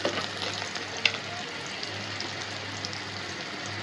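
Onions frying in a pan with turmeric just added, a steady close sizzle crackling throughout with a single sharp tick near the start and no talk.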